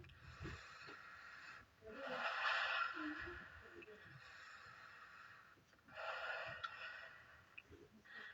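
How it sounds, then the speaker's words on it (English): A dog breathes in slow, raspy snores during a quiet indoor workout: two long, fairly close wheezing inhalations with soft breathy rustle in between, no talk over it. "Yeah, he's starting to snore."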